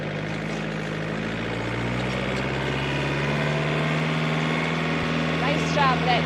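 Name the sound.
tractor engine running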